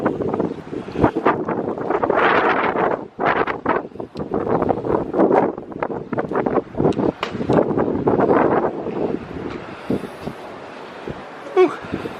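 Strong wind buffeting a microphone outdoors during a storm damage inspection, a loud continuous roar with gusty surges that holds for the whole stretch, with no voices.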